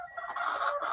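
A hen clucks steadily for a second, a close, busy run of short fowl calls with no talk over them.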